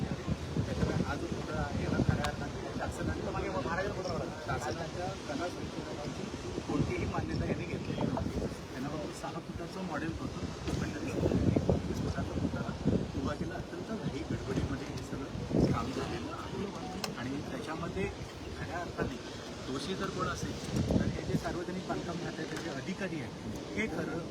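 Strong coastal wind of about 45 km/h buffets the microphone at Rajkot fort in Malvan, a constant roaring rush with gusty swells while someone talks over it throughout.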